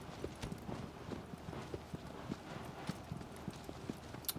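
A horse gallops in Shadow of the Colossus with quick, regular hoofbeats at moderate distance, a faint rhythmic clip-clop running steadily the whole time.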